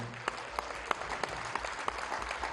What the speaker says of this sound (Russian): Прошу поприветствовать ее аплодисментами